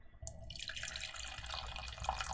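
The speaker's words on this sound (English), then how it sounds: "I'm going to pour all the water out without losing all the noodles." Water drains out of an instant noodle cup into a sink, a close steady splashing pour that starts abruptly and runs continuously to the end, with no speech.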